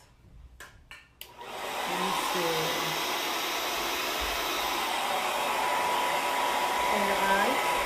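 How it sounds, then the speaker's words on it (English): A blow dryer roars loudly and steadily while drying a person's short blonde hair during styling, starting after a few sharp taps and a brief spoken remark. "let me take this blow dryer and get this hair"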